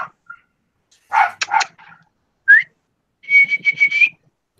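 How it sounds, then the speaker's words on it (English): Short bursts of sharp whistling, a few quick rising notes and a trilling whistle, separated by silence, with a brief bark-like sound early on. "stop whistling into our ears"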